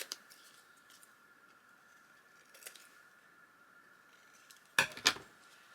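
A few quiet, close snips of scissors cutting paper for a travel journal page, a brief pair of crisp cuts near the end against a soft background hum.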